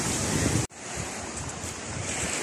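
Sea waves at high tide crash and wash near a coastal cave, a constant loud roar of surf with wind buffeting the microphone and a brief dropout near the start.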